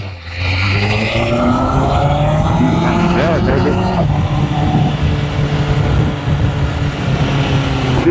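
A big BMW sedan drives past on a street, its loud, steady engine and tire roar sweeping by close up for several seconds, with some voices underneath.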